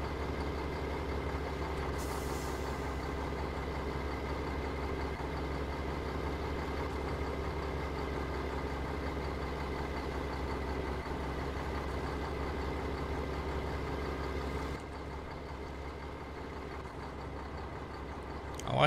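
A logging truck engine idling in Farming Simulator 17, a steady low diesel rumble with constant humming tones that drops slightly near the end, heard alone without speech.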